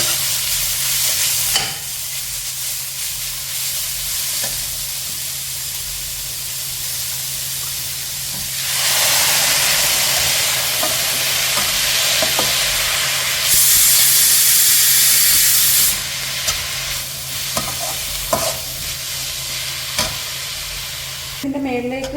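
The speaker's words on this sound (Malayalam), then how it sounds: "നല്ലതുപോലെ ഇളക്കി കൊടുക്കാം" Curry frying in a pan while being stirred, with a loud continuous sizzle and hiss that swells into bursts of steamy spitting, broken by occasional scraping strokes of a utensil.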